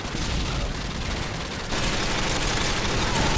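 Dense gunfire in Call of Duty Modern Warfare 2, a loud continuous rattle of rapid shots that grows heavier partway through.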